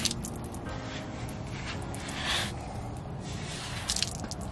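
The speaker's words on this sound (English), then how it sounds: "So as you can see, the water runs down." Sweat scraper drawn along a wet horse's coat, close squishy wiping and dripping water in continuous strokes with a brief louder swish midway, fairly quiet and without talk.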